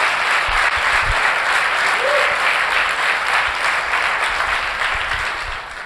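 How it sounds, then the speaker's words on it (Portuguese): Congregation at a church leaders' course gives sustained, dense applause, loud and even throughout, with a few low thumps and faint voices under the clapping before it tapers slightly at the end. "Vamos dar um aplauso a Jesus?"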